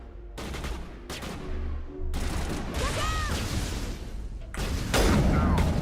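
Rapid gunfire bursts from Mass Effect Legendary Edition gameplay, played through xCloud, rattle at a steady loud level across the clip, with thuds and a brief rising electronic whine midway.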